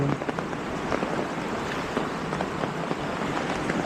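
Steady rain during days of nonstop downpour beside a swelling river, a dense even patter of drops on surfaces filling the scene from start to end with no voices.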